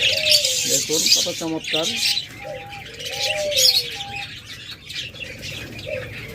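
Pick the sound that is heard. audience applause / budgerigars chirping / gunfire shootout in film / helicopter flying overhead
budgerigars chirping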